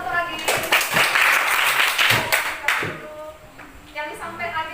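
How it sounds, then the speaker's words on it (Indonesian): Classroom applause for a student named Adi after a presentation, a burst of scattered hand clapping from a small group that fades out, with voices talking over and after it. "tepuk tangan untuk Adi."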